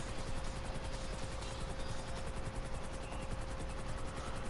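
A steady video-game helicopter rotor thrum drones throughout, with rapid chopping blades and an even engine whine, continuous and close, with no talking.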